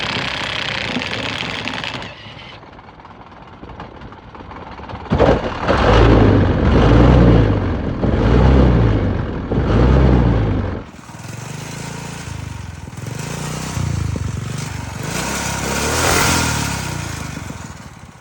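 An impact gun whirs against a Motovox mini bike's small engine to turn it over, then the engine catches and runs with a loud, uneven revving buzz that rises and falls close by.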